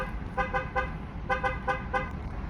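Car horn honking in short repeated toots, a group of three, a pause, then four more, over low traffic rumble.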